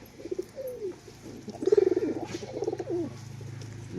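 A pair of Bazi pigeons coos nearby in a few rolling, throbbing phrases, quiet overall, over a low steady background hum.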